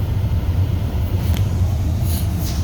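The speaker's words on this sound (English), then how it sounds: "I need to turn this off because my car's loud." A loud running car idles with a steady low rumble close by, continuous throughout with faint higher hiss above it.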